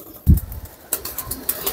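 Racing pigeons in a loft, with one low thump near the start followed by faint scattered flutters and soft rustling, brief and fairly close.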